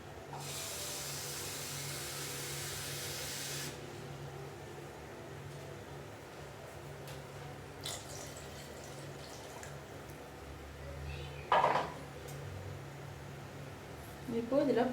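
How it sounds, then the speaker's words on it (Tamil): Water pours into a pot of South Indian sambar for about three and a half seconds as a steady, close hiss, followed by quieter kitchen clatter and a few brief knocks. "தண்ணி இப்போது இந்த இதில் 2 பவுல் சேர்த்துக்கிறேன்."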